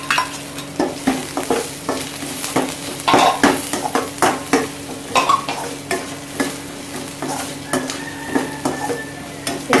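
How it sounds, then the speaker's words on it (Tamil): Cut chillies fry in a pan as a tadka for Punjabi-style dhal, with steady sizzling broken by repeated scrapes and clinks of a spoon stirring against the pan, close and fairly quiet. "இப்போ நம்ம வந்து கட் பண்ணி வச்சிருக்கிற மிளகாய் வந்து உள்ள சேர்த்துக்கணும்."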